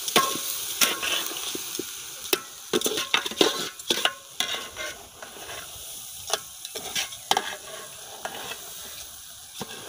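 Khichuri stirred in a pot over an outdoor fire on a riverbank, a spoon scraping and clacking in quick irregular strokes over a soft bubbling sizzle, close and fairly loud with no voices.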